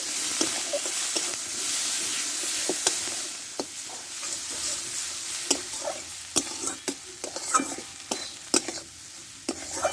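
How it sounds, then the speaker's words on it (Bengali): Spice paste with salt and turmeric frying in a pan for a Bengali rui fish curry, a steady sizzle and hiss broken by repeated sharp clicks and scrapes of a spoon stirring against the pan, close and continuous. "দেখো মশলাটা আমি ভালোভাবে কষে নিয়েছি"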